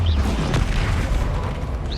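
A Confringo spell explosion in a Harry Potter video game: a heavy, booming blast with a dense low rumble that fills the whole moment, loud and close, with no voice over it.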